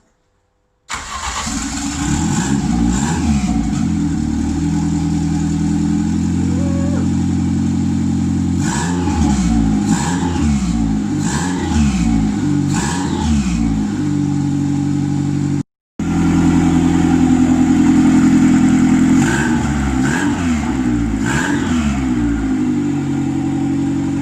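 A Toyota Starlet Glanza with a DIY cheap exhaust cranks over and catches on its first start-up, then settles into a loud, steady idle broken by repeated sharp revs that rise and fall, with a brief cut partway through.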